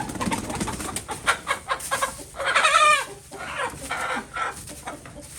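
Chickens cluck and squawk in a backyard coop during chicken wrangling, several birds calling in overlapping bursts with one louder agitated flurry midway, close and fairly busy, without speech.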